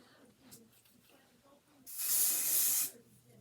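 One burst of hair adhesive spray hisses for about a second during wig installation, loud and close, with quiet handling noises before it.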